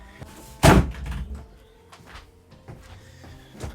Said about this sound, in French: Attendez, je ferme la porte.